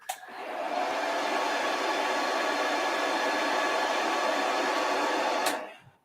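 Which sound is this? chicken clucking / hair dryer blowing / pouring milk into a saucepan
hair dryer blowing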